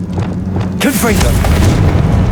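A Confringo blasting spell goes off in Hogwarts Legacy, a deep booming explosion that swells and then rumbles on. A voice calls out just before the blast.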